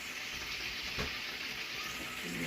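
Red onion, garlic, chili and chives sizzling in a cooking pot, a steady frying hiss with one brief scrape of stirring, no talk.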